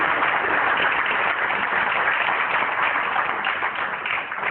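Sustained, even applause from an assembly audience at a cancer symposium in Brazzaville, honoring a minister; a dense wash of clapping hands that holds steady for several seconds at moderate loudness with no speech over it.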